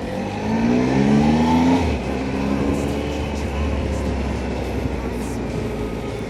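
An old Renault car passes close by, a loud engine drone and tire roar with a rising then falling pitch over the first two seconds, then fading into steady road noise.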